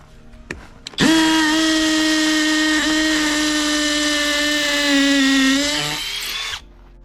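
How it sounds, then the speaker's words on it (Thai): A PUMA PM-245BL 20V cordless three-mode drill whines up sharply and holds a loud, steady high-pitched run for about five seconds while boring an anchor hole, then its pitch sags and it winds down to a stop. "ผมจะเจาะตรงนี้ตัวหนึ่งนะครับ เพราะว่ามันต้องใช้สองรู"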